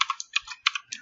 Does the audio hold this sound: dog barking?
no